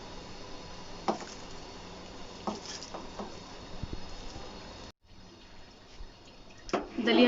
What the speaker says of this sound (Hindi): ये देखिए पानी उबल चुका है।